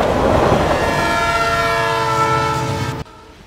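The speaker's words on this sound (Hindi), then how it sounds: "लहरों की आवाज बंद हो गई और ट्रेन की आवाज सुनाई पड़ी" A train rolls past with a loud, sustained horn blast over rumbling wheels and clatter, the sound cutting off abruptly near the end.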